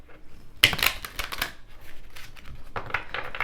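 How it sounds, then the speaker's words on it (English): Close, crisp riffling of tarot cards being shuffled, a quick burst of flapping clicks followed by softer shuffling, no talking. "Let's do some shuffling."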